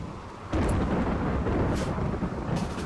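Rain and thunder in the video game RimWorld: a steady heavy rain roar starts abruptly, with deep rumbling thunder underneath and a few crackling bursts, loud and continuous.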